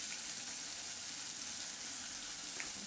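Ginger garlic paste with turmeric and salt fries in a pan for potol dorma, giving a steady hissing sizzle throughout with a couple of faint pops, no voices.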